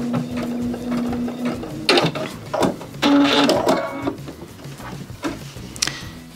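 A Baby Lock sewing machine runs through decorative stitches, its needle chattering in fast mechanical bursts that stop and restart, with the clicks of the machine adjusting between runs, close by and with no talk.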